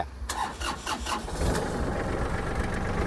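A used Yanmar tractor engine turns over with a few rapid cranking pulses, then catches and settles into a steady, loud, close diesel idle.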